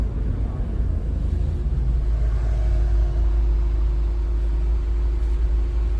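A VW MK7 Sportwagen fitted with an aftermarket intercooler and intake gives a steady low engine rumble under light throttle, heard from inside the car, even and droning with no clear rise in pitch.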